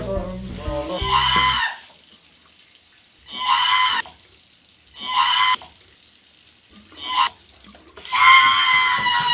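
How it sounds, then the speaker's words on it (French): Bathroom sink faucet being turned on and off repeatedly. Water gushes in several separate bursts with quiet gaps between them, and a voice is heard at the start. "quand quelqu'un allume le robinet du lavabo en même temps juste à côté"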